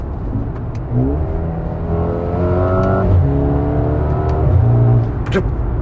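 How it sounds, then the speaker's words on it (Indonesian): A 2022 Mercedes-AMG GLA 35's engine revs up repeatedly in manual mode, climbing in pitch through each gear, with brief crackling exhaust pops at the shift points, loud and close. "Ada suara letupan-letupan kecil lah pada saat pindah gigi"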